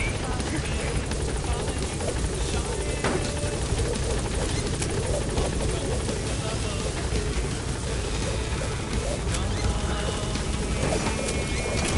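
Helicopter in the video game Metal Gear Solid V, a steady loud rotor thrum holding for the whole stretch while radio-style voices talk over it.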